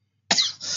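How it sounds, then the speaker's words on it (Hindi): A single short, sharp cough from a person with a cold, close and fairly quiet, followed by a brief trailing breath. "सॉरी मुझे जो खांसी हुई है"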